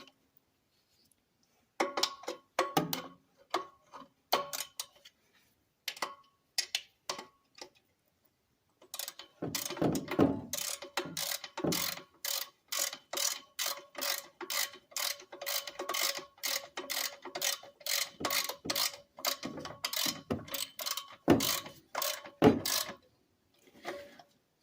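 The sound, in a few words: ratchet tightening golf cart engine muffler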